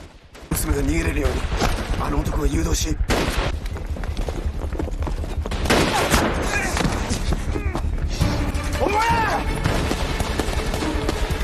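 Gunfire in a war film, with a sniper exchange on a clifftop, rattles in dense, loud volleys and booms nearly throughout, with a voice speaking over the battle.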